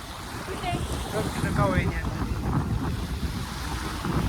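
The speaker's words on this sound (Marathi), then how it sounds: "हवा एवढी एवढी इकडं फास्ट आहे" Strong wind roars steadily at Chaskaman dam near Khed, a constant broadband rush over water with voices talking on top throughout.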